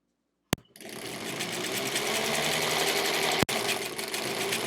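A sewing machine stitches quilt-as-you-go blocks, running in a steady continuous whir after a sharp click at the start, with another brief click partway through, and no one talking.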